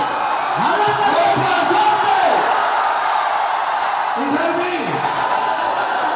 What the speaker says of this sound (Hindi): दोनों हाथ से उठा के ताली बजाइए